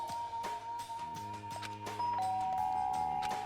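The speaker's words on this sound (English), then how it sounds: "There's a doorbell next to the door." A doorbell in the Danganronpa: Trigger Happy Havoc video game gives a clear electronic ding-dong chime of two tones, ringing over soft background game music.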